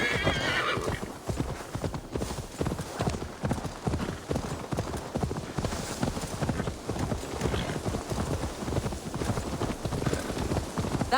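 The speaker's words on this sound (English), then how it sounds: "Now to deliver Magni his horse." Horse hooves clip-clop in a fast, continuous rhythm, loud and close, with a faint rain-like hiss beneath, from the video game Assassin's Creed Valhalla.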